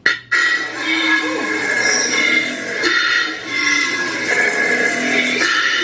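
A koala's harsh, rasping bellow drones on steadily, grinding in and out like a snoring engine, loud and close with a few rhythmic swells.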